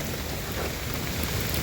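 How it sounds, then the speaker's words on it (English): Heavy rain falls outdoors at a yard, a loud, steady wash of dense hiss that stays constant through the short stretch, with no talking. "man, it's raining. It's raining bad."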